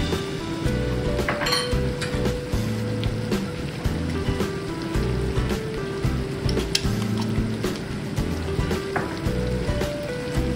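Minced garlic fries in sesame oil in a pan while ribs are cooked, giving a loud, steady sizzle with occasional clinks of a utensil against the pan.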